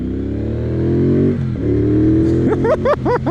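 A 2024 Triumph Bonneville Bobber motorcycle engine drones steadily and then revs up in several quick throttle blips as it gets up to speed, loud and close.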